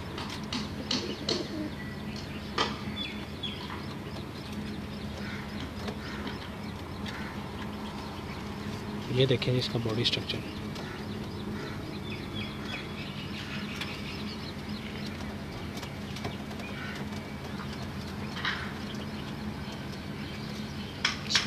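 Salare Teddy pigeons coo softly in a home loft, low murmuring calls under faint background noise, with someone talking briefly over them.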